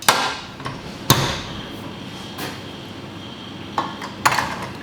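A metal mixing bowl being fitted back onto a stand mixer while making chocolate brownies: a few sharp metallic clanks and knocks, spaced irregularly, close and fairly loud with no talking.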